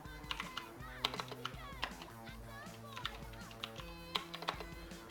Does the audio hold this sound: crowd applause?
no